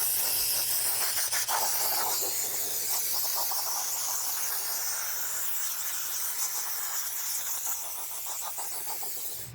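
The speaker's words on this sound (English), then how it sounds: "Using the air compressor, we now clean the back of the unit and anything that we can see" Compressed air blasting steadily across the back of an iRobot Roomba Combo i5 robot vacuum during cleaning, a loud continuous hiss with slight fluctuations, easing a little near the end.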